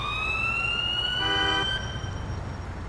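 Ambulance siren in a police patrol game, a steady high wail with layered tones, holding loud and close throughout, with a brief extra burst of stacked tones in the middle and no talk.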